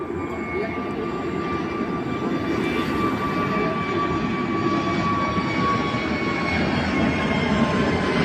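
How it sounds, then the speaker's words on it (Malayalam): An airplane takes off at an airport at night, a loud, continuous engine roar held steady throughout, with no talk. "4ാമത്തെ ഫ്ലൈറ്റ് പൊന്തിയിട്ടുണ്ട് കേട്ടോ."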